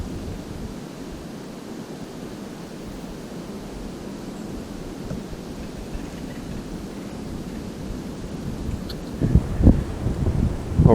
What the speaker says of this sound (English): It's been a slow afternoon, really, really windy.